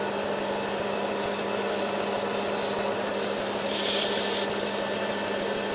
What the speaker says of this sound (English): 600 grit, and then I just finished it with a really fine sandpaper